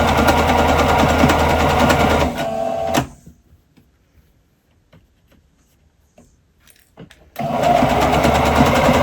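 A sewing machine stitches a curved seam on a dressing gown, loud and close with a rapid mechanical whir, stopping for several seconds of near silence before running again.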